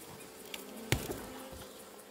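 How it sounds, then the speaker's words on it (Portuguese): Honey bees buzz around an opened hive during a super inspection, a faint steady drone with one sharp close knock partway through. "Essa é a abelha higiênica"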